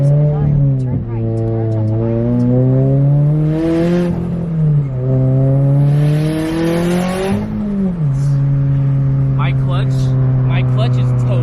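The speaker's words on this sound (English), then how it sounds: "let's hear some turbo noises right now" Turbocharged Subaru BRZ with a big turbo driving, loud steady engine drone rising and falling through gear changes from inside the cabin, with no talking.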